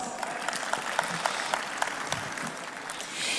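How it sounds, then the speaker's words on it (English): An audience at a Muslim community gathering in Philadelphia gives steady applause, moderately distant, with some sharper individual claps standing out above the even wash before it tapers. "Give yourselves a round of applause."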